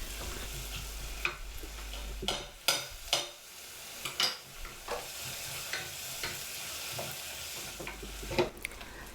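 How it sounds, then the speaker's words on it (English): Onion, garlic and nacho spice sizzle in a frying pan while a utensil stirs and scrapes in irregular knocks, close up, with no talking. "Add the onion, stir, and 1 teaspoon of garlic."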